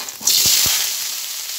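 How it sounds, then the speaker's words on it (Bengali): Loud, steady frying sizzle as pasta goes into a pan where an egg is cooking, with a couple of soft stirring knocks near the start and no talk. "দিয়ে দিব পাস্তাগুলো"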